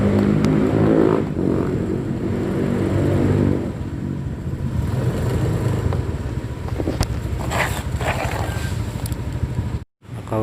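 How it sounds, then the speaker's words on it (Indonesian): A motorcycle rides into a station parking lot in Cimahi and pulls in to park, its engine a continuous rumbling drone mixed with wind buffeting the microphone, loud and close, dropping briefly near the end. "Mungkin saya akan parkirkan dulu motornya ya kawan ya."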